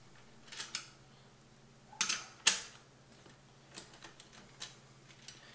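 A 15 mm wrench loosening the axle nuts on a fixed-gear bicycle, producing scattered sharp metallic clicks and ratchety taps, a couple of louder clacks in the middle, close and quiet with no voices.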